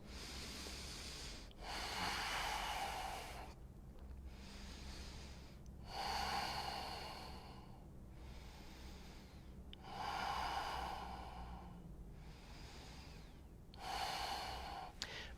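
Slow deep breaths taken while holding a yoga pose, feet pressed into the hands: four long, loud breathy inhalations and exhalations at a steady rhythm, close up with no talking.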